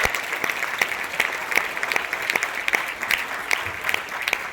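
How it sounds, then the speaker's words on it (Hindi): An audience at a meeting in Thane claps together in a steady, rhythmic beat, several even claps per second over a soft crowd murmur. "आप सबके लिए जोरदार ताली होनी चाहिए।"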